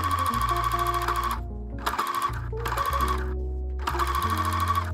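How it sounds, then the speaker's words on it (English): A sewing machine stitches bias tape along a garment neckline, running in loud, fast bursts of rapid needle clatter with short pauses between runs. "Sew the bias tape at a quarter from the edge."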